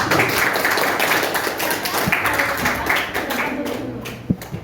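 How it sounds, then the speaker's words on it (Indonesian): Applause from an audience at a university classroom presentation, steady dense clapping filling the space for several seconds, fading slightly near the end with a few isolated sharper claps. "Beri tepuk tangan untuk kelompok anak"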